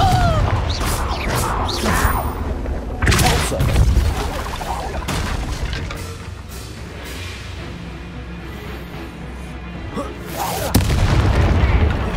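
Confringo spell blasts in Hogwarts Legacy explode loudly as heavy booms and crashing impacts, with a thick rumbling battle din that stays under the sudden bursts and flares again near the end.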